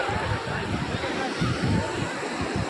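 Big sea waves surge at Panambur Beach in Mangalore, a continuous loud roar of surf with wind buffeting the microphone and no break in the wash.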